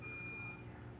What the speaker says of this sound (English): I just can't tell you why there's the beeping going on